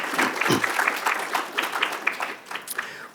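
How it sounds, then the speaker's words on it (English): An audience claps steadily at an English department awards night as a recipient walks down, a continuous wash of applause throughout. "we'll clap as you walk."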